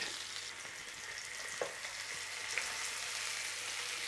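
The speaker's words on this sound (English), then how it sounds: "sear it all around. And we might have to put it back again, put some butter in" Sirloin steak searing in a hot pan with butter gives a steady, close frying sizzle with faint crackles and a couple of soft pops, no talking.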